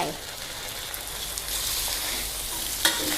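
Pork going into a pan of stir-fried lemongrass paste, with steady broadband frying sizzle throughout and a brief sharper clatter near the end, close and moderately loud with no talk.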